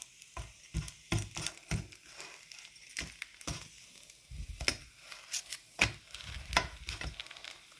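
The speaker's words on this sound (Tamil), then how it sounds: "பாருங்க, இதை குட்டி குட்டியாக வெட்ட போகிறேன்." A knife chopping layered kottu roti flatbread into small pieces on a board, rapid irregular clacks in quick clusters, close and crisp, with no talk.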